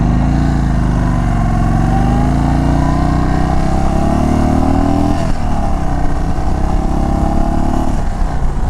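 An Indian Chief Bobber motorcycle on a test ride gives a loud, steady engine rumble that rises and falls in pitch as the throttle changes, mixed with wind rush throughout.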